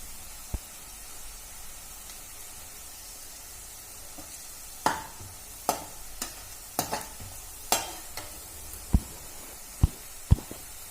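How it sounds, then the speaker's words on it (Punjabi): A tadka tempering for palak paneer sizzles in hot oil with a constant soft hiss, broken by scattered sharp clinks and scrapes of stirring. "ਲੋ ਜੀ ਆਪਾਂ ਤੜਕਾ ਧਰ ਲਿਆ ਹੁਣ"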